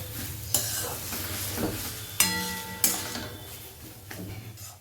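Cooked banana flower (mocha) being stirred in a pan with a spatula, giving a few sharp scraping strokes over a soft sizzle. Close and fairly loud, with no voices.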